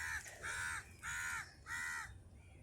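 Crows scavenging for seafood scraps at the port of Port Klang, Malaysia, give three loud, evenly spaced caws close by, each drawn-out and harsh, with faint background ambience between them.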